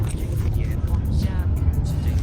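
A self-driving robotaxi rolls along a city street with a steady low road rumble and tire noise heard from inside the car, with people talking over it.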